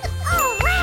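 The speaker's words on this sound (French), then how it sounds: "j'ai failli oublier le canard" A cartoon duck quacks in a food-challenge setting, two loud, nasal quacks close up, the second after a short break, with a faint tinkle in the background.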